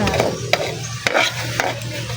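Meat being stirred in a hot pan while cooking Bicol Express, a steady sizzle and frying hiss broken by a few sharp scrapes of the utensil against the pan, close and fairly loud, with no talking.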